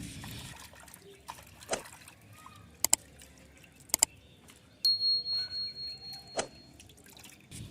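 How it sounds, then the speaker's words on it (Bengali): Small tengra fish shaken and rinsed by hand in a bowl of water, with soft scattered drips and light splashes, a few sharp clinks, and a short run of wet sloshing near the end, all close and fairly quiet. "মাছটাকে এভাবে ঝাঁকিয়ে ঝাঁকিয়ে ধুতে হবে। আমি আর একবার ধুয়ে নিব।"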